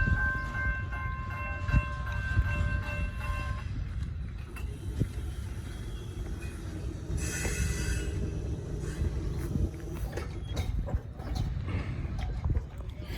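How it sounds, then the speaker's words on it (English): Two trains pass at once at a railroad diamond crossing: rumbling, clattering rail noise runs throughout with a steady low roar and rhythmic clacks; a bell-like tone rings early, and a hiss bursts around the middle. "That was 2 trains at once."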